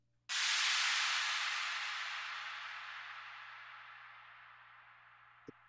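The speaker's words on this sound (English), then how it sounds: "the second reverse cymbal is I called it a long cymbal, but it's got a lot of reverb on it." A soloed cymbal in an EDM house track hits sharply, then a long, washy reverb tail fades slowly like white noise, with a faint click at the very end.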